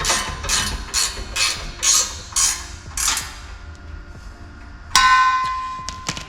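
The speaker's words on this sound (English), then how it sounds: "definitely makes your life easier if you've got a ratcheting wrench" A ratcheting wrench clicks in steady bursts while tightening nuts onto carriage bolts during a Sprinter van rear tube step install, close and moderately loud, ending with a brighter metallic clink.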